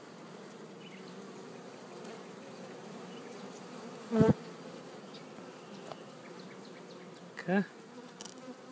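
Honey bees buzz steadily around acacia beehives during the acacia nectar flow, a continuous low insect hum filling the background, with two brief louder knocks and a few faint words spoken over it.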